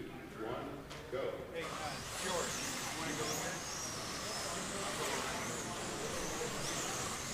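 Enduro race cars run at Piranha Raceway, a continuous engine roar with some distance to it, rising and falling slightly as the pack passes, under a voice commentating.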